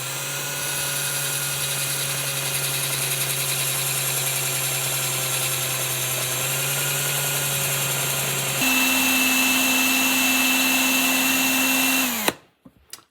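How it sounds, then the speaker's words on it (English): A flat file is held against a spinning carbon fibre outer barrel for an AR15 gas blowback airsoft build. A steady, loud mechanical whine with a pitch step partway through stops abruptly near the end. "I'm going to spin it, and then just hold the file on there and gradually take this down"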